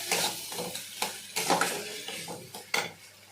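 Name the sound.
sautéing prawn malai curry with ginger paste in a pan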